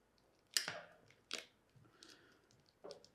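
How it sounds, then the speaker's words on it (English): Electrical tape being wrapped around a wire nut, with a few short sticky peeling rips, the first loudest, then softer crinkles and another rip, close and quiet. "you can wrap the connection with electrical tape"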